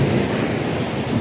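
Ocean waves breaking on Nasugbu beach, a steady loud wash of surf with wind buffeting the microphone throughout, no voices.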